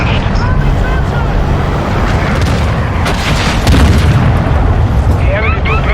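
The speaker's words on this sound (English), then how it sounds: "Hostile cruise missile launched." Heavy explosion rumble from a cruise missile strike in the Modern Warfare II ground war mode, a loud sustained boom filling the scene with dense low roar, brief whistling streaks of incoming fire and battle noise around it.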